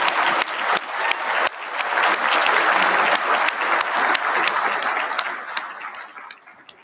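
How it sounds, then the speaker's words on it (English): An audience at a Marine Corps awards dinner gives a sustained round of applause, dense and even, with a few sharp nearby claps, fading out at the end. "Round of applause for 2nd Force Storage Command."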